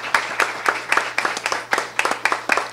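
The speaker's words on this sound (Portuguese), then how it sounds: "Por favor, salve de palmas para Vitor Augusto." A small audience claps for a speaker at a 2018 Brazilian election forum, with separate hand claps landing in a quick, fairly regular rhythm, close and distinct rather than blended into a roar.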